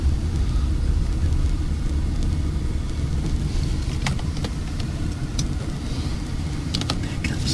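A car approaches along a road, a low steady engine and tyre rumble filling the background with a few faint clicks and brief noises on top, no clear voices.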